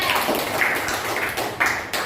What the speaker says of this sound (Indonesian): Oke, tepuk tangan buat Mbak Nada